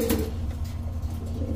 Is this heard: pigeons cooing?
yes